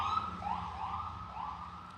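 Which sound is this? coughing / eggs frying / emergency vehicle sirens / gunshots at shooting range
emergency vehicle sirens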